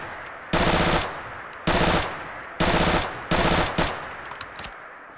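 PPSH-41 submachine gun from a Fallout 4 mod firing in four rapid, loud full-auto bursts separated by short pauses, with a few lighter clicks and clatters after the last burst and no talking.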